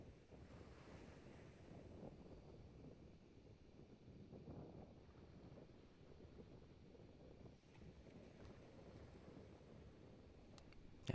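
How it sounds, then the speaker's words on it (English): Strong wind buffets the microphone at South Chesterman Beach in Tofino, British Columbia, blending with the steady wash of surf in a continuous, fairly faint roar, ending with a brief louder gust. "there was so much wind"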